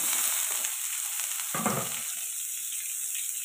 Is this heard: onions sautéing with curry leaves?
yes